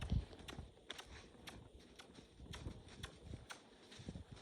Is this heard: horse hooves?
yes